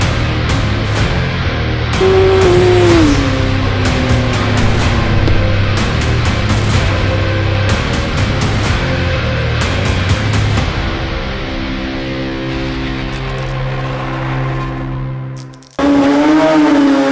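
A 2016 Kawasaki ZX10R Gen 5 KRT edition sportbike engine, loud and close, revs in rising and falling sweeps. It settles into a steady idle, then snaps back into a sharp high rev at the end.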